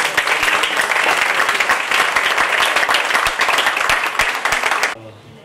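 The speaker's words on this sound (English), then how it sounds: "A big round of applause for him." Crowd at a book launch breaks into loud, dense applause that continues steadily for about five seconds before cutting off abruptly.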